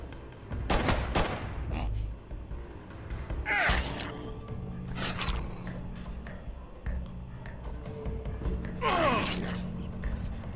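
Gunfire bursts in the video game Fallout Shelter, several sharp loud volleys spaced across the stretch with a steady game background hum between them.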